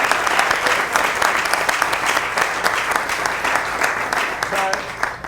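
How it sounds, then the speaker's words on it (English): Audience applause fills a live staged reading, sustained and dense crowd clapping from start to finish at steady loudness with no voices on top. "we haven't clapped for Sabrina, the other winner"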